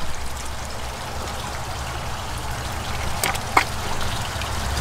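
Water trickles and pours steadily into a catfish farm pond in a constant outdoor wash, with a small splash near the end as a catfish is put in.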